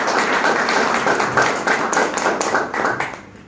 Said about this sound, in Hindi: एक बार आप लोगों के लिए जोरदार ताली होना चाहिए